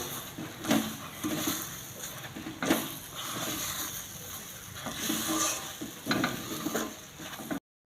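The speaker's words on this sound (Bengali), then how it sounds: "দিয়ে একটু নাড়াচাড়া করে নেবো" A spatula stirs a thick, sticky palm-fruit sweet mixture with crushed peanuts in a pan for taler borfi, giving a soft sizzle with repeated scraping strokes at close range, and no talking.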